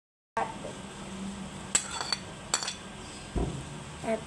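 A spoon stirring creamy sopas soup with cabbage in a metal pot, with scattered clinks and scrapes against the pot sides and a faint background hum.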